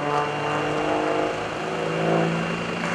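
A Gary Ward aerobatic airplane at the 2015 Greenwood Lake Airshow gives a steady, loud engine drone with a rising and falling tone as it repositions for a wingover, heard from a distance and carrying on without a break.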